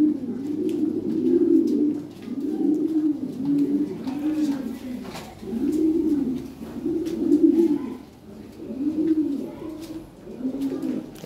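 Lahore pigeons coo in a near, rhythmic series of low rolling calls, roughly one every second or two, with faint background noise and no clear talk.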